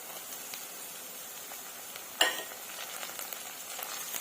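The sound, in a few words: frying onions, curry leaves and tomatoes in oil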